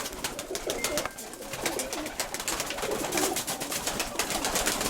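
Soft cooing of a young pigeon repeats a few times nearby, with a hissy outdoor background.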